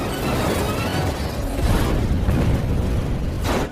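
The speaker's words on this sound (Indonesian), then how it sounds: "Kerrigan lebih dulu menembak Ghost Rider dengan peluru granat." A grenade round explodes in a film action scene, a loud sustained blast with dense rumbling low end that swells and stays heavy for several seconds, with a bright crackling burst near the end.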